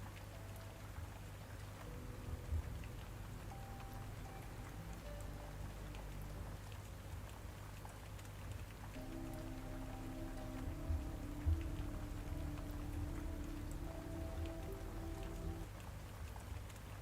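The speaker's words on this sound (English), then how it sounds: "Is the rain too loud?" Steady rain falls throughout with a constant soft patter on surfaces, with faint tonal sounds drifting in and out under it and no voices.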